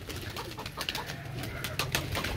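Pigeons cooing on a rooftop, soft repeated coos against a faint background hum, at moderate distance with no talk.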